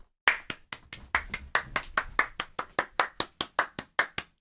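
Rhythmic clapping in a roughly even beat, about fifteen sharp, distinct claps in a row, close and clear with nothing else over them.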